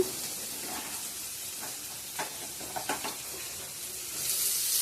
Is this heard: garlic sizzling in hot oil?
yes